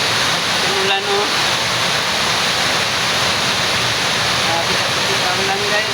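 Very heavy rain pours in a loud, continuous hiss of broad noise with no break, with faint voices and small sounds showing through briefly.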